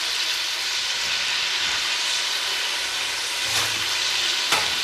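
A spoonful of whole cumin seeds fries in hot oil for a bottle gourd and chana dal curry, giving a steady, close sizzle throughout. Two faint utensil clinks come near the end.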